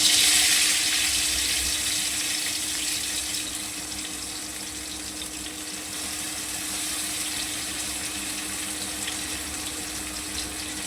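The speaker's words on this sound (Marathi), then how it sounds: "कारले ना असे चांगले पिळून घ्यायचे, जेणेकरून त्याचं पाणी सगळं निघायला पाहिजे।" Water runs out of squeezed bitter gourds being prepared for a Jalgaon-style karela bhaji, a steady close splashing trickle lasting throughout, louder at first and then settling, with no talk.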